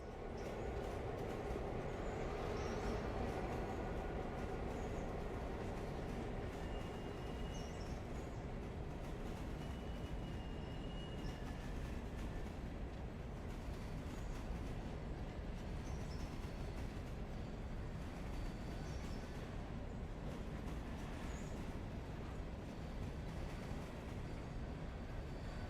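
Train cars rumble and clank steadily while shunting in a rail yard in the video game Railroader, a continuous low rolling drone with faint metallic squeals and no talking.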